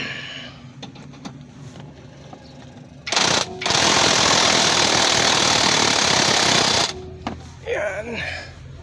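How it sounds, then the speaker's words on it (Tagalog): An impact wrench tightens the four screws on a Suzuki DA64W, a loud continuous burst of rattling hammering that runs for about four seconds, preceded by a brief blip, with workshop ambience before and after. "Gamit itong impact wrench."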